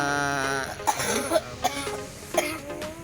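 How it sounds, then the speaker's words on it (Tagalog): A person coughing at a chilly campsite, several short separate coughs close to the microphone, with faint background voices or music between them. "Inuubo ko."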